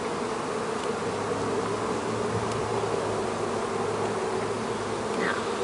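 Honey bees buzz in an open hive during a swarm-season inspection, a dense, continuous drone from many insects close by, steady in level with no voices.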